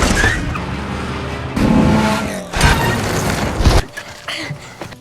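Cars in a film chase scene rush and skid, loud engine roars and tire noise swelling in bursts with a heavy thud near the end, mixed with dramatic soundtrack over about five seconds.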